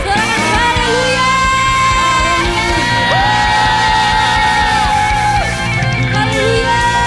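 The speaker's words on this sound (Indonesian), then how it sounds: "Berikan sorak-sorai yang dahsyat untuk Tuhan" A church congregation at an online worship service shouting and cheering praise to God, a loud and sustained blend of voices with long held tones throughout.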